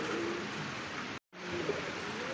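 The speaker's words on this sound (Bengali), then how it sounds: "একজোড়া ব্ল্যাক কালার মধ্যে কালিং রাসগোল্লা কবুতর আর ডাকতেছে" A pair of black Rasgolla pigeons cooing softly close by, low murmuring calls over a steady background hiss, broken by one brief cut to silence.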